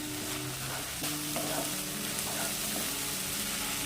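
Spice paste for a jackfruit and prawn curry fries in a pan, a dense sizzle with scraping stirs and faint tonal clinks, close and steady, with no speech.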